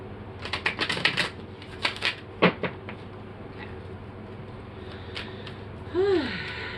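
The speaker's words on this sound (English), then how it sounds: "I actually feel like I need to like fully shuffle." Tarot cards are shuffled by hand in quick flurries of crisp, clicking riffles over the first few seconds. Softer scattered card sounds follow, and a brief vocal sound comes near the end.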